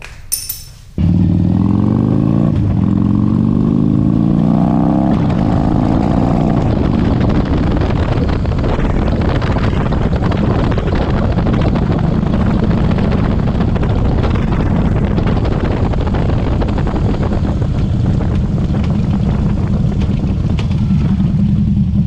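A Harley Davidson Dyna motorcycle is ridden on the road after a shift linkage install: a steady engine drone rises through the first gears, then settles under heavy, continuous wind rush for over twenty seconds.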